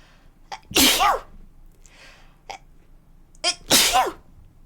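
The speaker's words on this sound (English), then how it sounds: "Sorry, I need to sneeze 1 second." Two loud, sharp sneezes, each preceded by a quick breathy intake, close to the mic with a pause between them.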